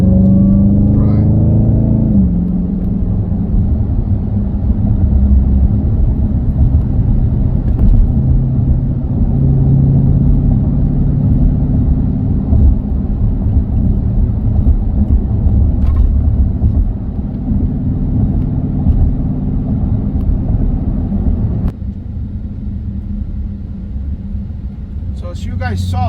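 A Dodge Hellcat cruises along with a deep, steady engine rumble that fills the cabin, easing slightly near the end, as someone talks over it.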